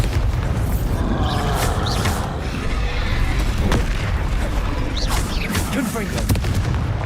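Loud, continuous magical blasts and booming impacts from the Bombarda spell in the Hogwarts Legacy video game, with repeated explosive bursts layered over a dense rumbling battle din.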